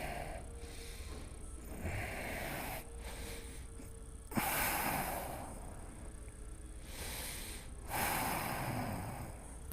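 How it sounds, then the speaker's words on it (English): Steady breathing during a yoga arm balance class, soft continuous airflow with a few stronger exhales or snort-like bursts near four and eight seconds, close and alone without talk. "Just keep breathing."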